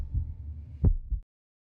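A heartbeat sound effect from a hospital cardiovascular ad: a low, muffled thump with a softer second beat after it, over a faint hum, then silence.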